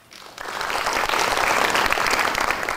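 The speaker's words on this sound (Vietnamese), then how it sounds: "xin mời toàn thể chúng ta cho một tràng pháo tay để động viên với tinh thần" Audience applause at a village Mid-Autumn festival in Thai Binh, Vietnam: dense clapping swells quickly and stays steady and close for almost three seconds, with no talking.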